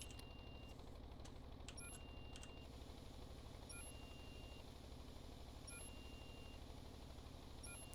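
A fire alarm aboard a ship in the Stormworks video game sounds short, high, electronic beeps repeating at irregular intervals over a low, constant engine drone, fairly faint overall.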